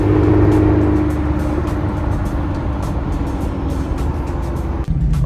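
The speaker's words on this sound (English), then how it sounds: "Ooh, we got a Nissan GTR. Let's see if it wants to get a little smoke." A Nissan GT-R engine runs loud and close, a steady low drone with slight rises in pitch that hold throughout before briefly dropping off near the end.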